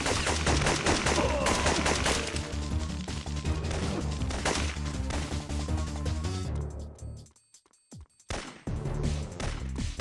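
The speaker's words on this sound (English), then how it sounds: "Who are we shooting at, guys?" Video game gunfire in rapid bursts of close, loud shots, continuous at first, then cut by short pauses before more volleys.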